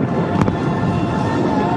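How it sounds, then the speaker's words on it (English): A record-size aerial firework shell bursts over Al Marjan Island, Ras Al Khaimah, as a single sharp boom within a steady roar of distant crowd and wind noise. "A brand new Guinness World Record for the largest aerial firework shell."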